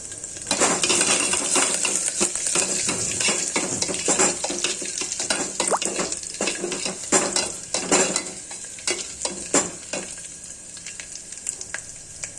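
Curry leaves and crushed garlic frying in oil in a pan for a drumstick sambar, stirred briskly with a metal spoon: a constant sizzle under quick, uneven scraping and clinking of the spoon against the pan.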